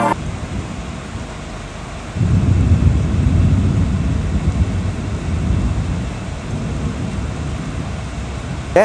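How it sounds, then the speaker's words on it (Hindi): Monsoon rain falls at Visakhapatnam station, a steady hiss that swells into a heavier, rumbling downpour partway through and stays loud to the end. "बारिश जो है वो चालू हो चुकी है"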